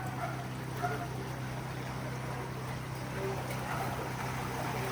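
A boat motor drones steadily out on the water, a continuous low hum with water noise and faint background voices.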